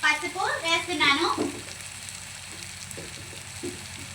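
Bottle gourd chicken curry with salt and turmeric is stirred in a pan, giving a soft sizzle and a few light scrapes after someone speaks at the start, close and fairly quiet.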